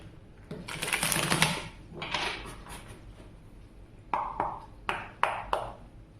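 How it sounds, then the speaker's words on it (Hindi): Tarot cards are shuffled by hand in a series of quick, close riffling bursts, a few longer ones followed by several short snappy ones, with no talking. "चलिए टाइम को वेस्ट ना करते हुए कार्ड शफल करते हैं"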